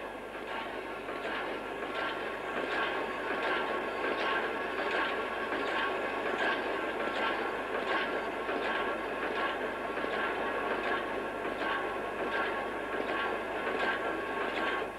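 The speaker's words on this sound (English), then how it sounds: "And here are the rails being ejected at the end." A 1970s Märklin factory machine ejects finished model rails with a steady, rhythmic mechanical clatter, evenly spaced pulses over a constant droning hum.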